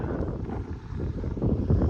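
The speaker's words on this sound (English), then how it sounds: "A little windy up here." Steady wind buffets the microphone at a high mountain-top lookout above a lake along the Blue Star Memorial Highway in the Eastern Sierra, a continuous low rumble with gusts swelling toward the end.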